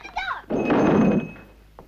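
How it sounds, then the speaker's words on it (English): A door is shut with a heavy, muffled thunk that rumbles briefly and fades, following a few spoken words indoors. "Shut the door."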